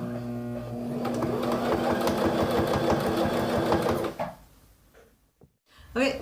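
A sewing machine runs steadily for about four seconds, stitching fabric for a square zabuton meditation mat with a fast, even mechanical whir under a speaking voice, then stops, leaving quieter handling noises and a few soft knocks.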